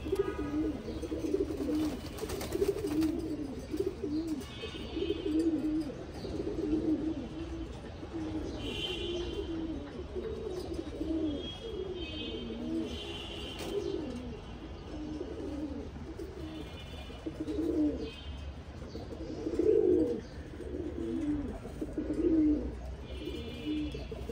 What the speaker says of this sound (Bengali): তো এটা হচ্ছে আমার কবুতরের ঘর বাড়ি, কবুতরের সংসার।